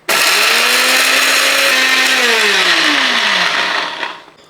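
Mixer grinder jar pulverizing cooled roasted spice masala for a chicken dish, a loud steady motor whine running about four seconds with pitch sliding as the blades spin, then quickly cutting off; no talking.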